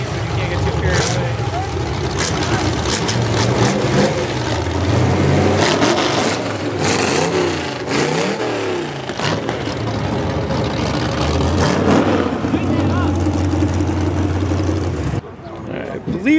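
Front wheel drive compact cars race at a demolition derby, engines roaring loudly and continuously as they rev and surge, with a crowd murmur and a voice talking over the noise.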